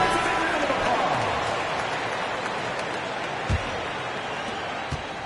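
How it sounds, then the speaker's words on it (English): A basketball arena crowd applauds at an NBA game, a steady, dense wash of clapping and cheering that holds loud throughout, with voices mixed into the roar. "Give yourselves a big round of applause"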